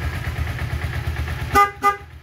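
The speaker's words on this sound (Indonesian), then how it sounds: "Tuh mantep, klaksonnya sudah dipakein klakson mobil ya" A car horn fitted to a motorcycle gives two short, loud honks in quick succession over the bike's steady idling engine.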